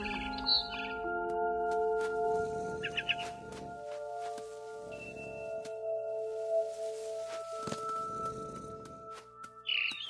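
A barn swallow chirps in short, high bursts near a window in the video game What Remains of Edith Finch, the brief calls scattered over steady tonal music and low rumbling.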